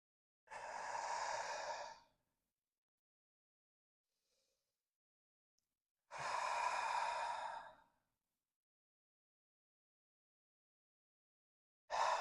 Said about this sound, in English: And falling into a couple deep breaths here.